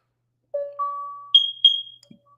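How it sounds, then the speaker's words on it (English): A Nest smoke alarm sounds during its monthly test: four short rising electronic chime tones in quick succession, clear and close in an otherwise silent room. "Just the monthly check on my Nest smoke alarm"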